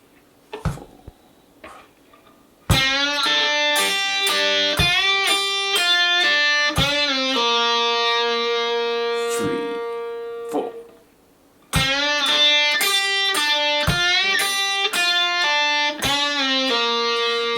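Electric guitar plays a fast lick with bends, releases and pull-offs in sixteenth-note triplets, loud and close, with a sustained held note midway and a brief pause before the phrase repeats.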